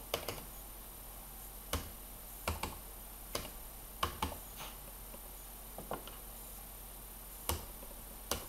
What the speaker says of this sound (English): Just trying to type in my number.